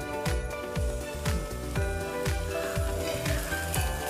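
Pearl millet pancakes cook in oil on a pan, giving a steady close sizzle with a soft repeating scrape every half second or so.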